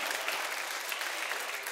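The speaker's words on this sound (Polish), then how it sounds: "wielkie brawa" An audience at a children's schlager concert claps in steady, dense applause, close and even, with no voices over it.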